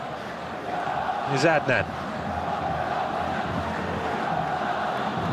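A football stadium crowd roars at the Jordan vs Uruguay AFC vs CONMEBOL playoff first leg, a steady wash of distant cheering and chanting that runs throughout beneath a commentator's voice.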